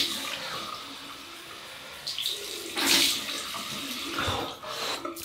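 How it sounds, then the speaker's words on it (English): Cold tap water running for a rinse after shaving, a steady gushing stream with brief splashes and surges as hands move through the flow. "Right, cold water rinse."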